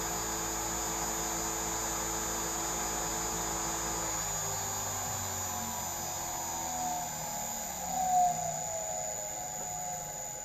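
A coating machine's motor spins at high RPM. A thin, steady whine and hum sounds at first, then the tone sweeps and shifts as the speed changes, and the whole thing stays quiet and close.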